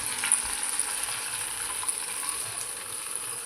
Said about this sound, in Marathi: आता इथे मी ह्याला फोडणी देते